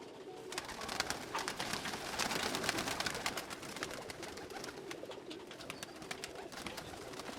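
Many pigeons of several breeds, crowded together in a loft, coo and flutter in a continuous soft chorus with wingbeats and scuffling at close range.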